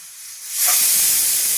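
A pressure cooker of bisibelebath (rice, moong dal and vegetables) releases steam: a quieter hiss swells at about half a second into a loud, steady, rushing blast that holds to the end, with no talking.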